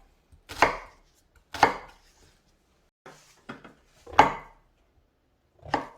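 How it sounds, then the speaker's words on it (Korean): Onion chopped with a knife on a cutting board: six sharp, separate thwacks at uneven spacing, close and clear against near silence. "요 호박 크기하고 비슷한 크기로 잘라주시면 되겠네요."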